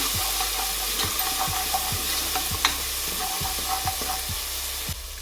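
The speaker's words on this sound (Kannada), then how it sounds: "ಲೋ ಫ್ಲೇಮ್ ಮಾಡ್ಕೊಂಡು ಒಗ್ಗರಣೆ ಮಾಡ್ಕೊಳ್ಳಿ" Mustard seeds and spices sizzle and crackle in hot oil over a low flame while a spoon scrapes the pan in regular strokes, close and continuous.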